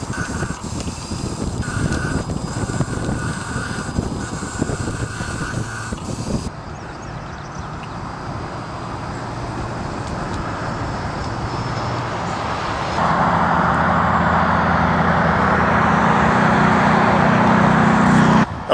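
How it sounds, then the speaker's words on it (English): Continuous road traffic rushing past a Quantum 4Front mobility scooter on a trail run, a broad steady roar of passing vehicles that swells louder near the end, with no voices. "Too much traffic here."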